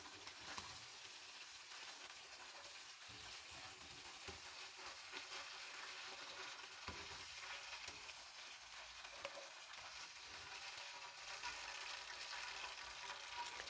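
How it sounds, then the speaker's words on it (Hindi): Chicken leg pieces for fried dabo chicken sizzle in hot oil, a faint continuous crackling hiss with small pops, steady throughout and heard alone. "इसी तरीके से हम दूसरे पीस डाल देंगे अब फ्राई करने के लिए"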